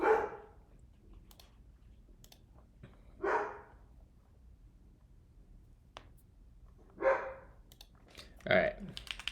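Dogs barking now and then in a quiet room, with single sharp barks spread apart and faint clicks between them.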